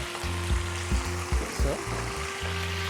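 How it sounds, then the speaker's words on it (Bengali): Chicken pieces fry with capsicum, onion and carrot for black pepper chicken fried rice, giving a constant loud sizzle broken by rhythmic scraping thumps of a spatula or wok tossing. "রান্না করার জন্য চিকেনটা একটু ফ্রাই করে নিচ্ছি এখানে।"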